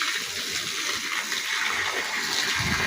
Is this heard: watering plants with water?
yes